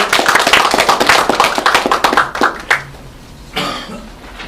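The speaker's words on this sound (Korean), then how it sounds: "힘찬 박수 부탁드리겠습니다." Dense, lively clapping from an audience welcomes a lecturer at a district office civic talk, then thins out and stops, followed by a short rustle.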